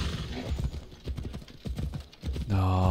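Rhythmic hoof clip-clops from a horse in Assassin's Creed Odyssey, steady and fairly close, with a sustained tonal chord rising at the end.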